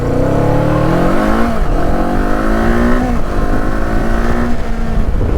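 A 2024 Kawasaki Eliminator 450 motorcycle accelerating hard on a test ride, its engine note climbing steadily through the gears with a brief dip between shifts, loud and close throughout with no talking.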